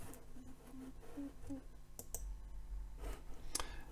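A handheld calculator's buttons are pressed while a calculation is keyed in, giving a series of light, irregular clicks close by under a person's speaking voice.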